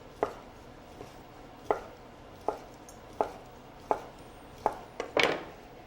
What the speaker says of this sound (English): we'll chop up some sausage for a dish